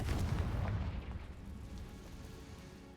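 A deep booming blast from the Confringo explosive spell in Hogwarts Legacy, a single heavy low rumble that fades out over a few seconds.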